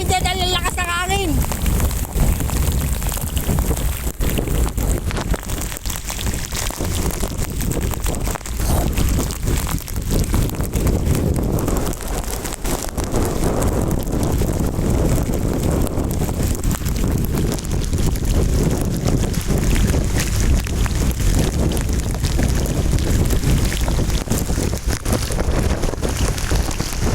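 Strong typhoon wind roars and buffets the microphone at the Malabon Mega Dike during Typhoon Carina, a constant loud gusting rush while someone speaks over it.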